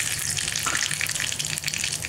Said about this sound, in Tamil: சூடான உடனே கடுகு போடலாம்.